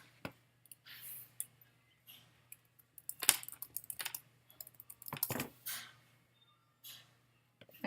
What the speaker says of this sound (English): I just typed in warmer of the month